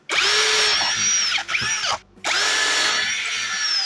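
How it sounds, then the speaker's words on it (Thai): A power drill bores holes into a wooden base, whining loudly up close in two long bursts separated by a brief pause and a short stop, the motor pitch sagging as the bit bites. "จากนั้นนะครับก็เจาะรูตรงที่ฐานไม้ตรงนี้นะเพื่อสำหรับยึดกับโครงเหล็กนะครับผม"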